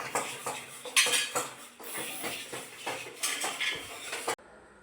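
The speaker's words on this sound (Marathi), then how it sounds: "भांडी पण घासायची ह्यानेच" Dishes and utensils are washed in a kitchen, with steel plates and cutlery clinking and scraping in irregular bursts under running water, close and moderately loud.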